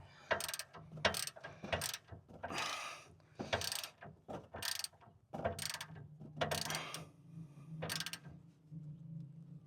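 Ratchet wrench tightening tie rod bolts on a vehicle, a run of sharp repeated clicking bursts in an uneven rhythm, close and quiet with no talking.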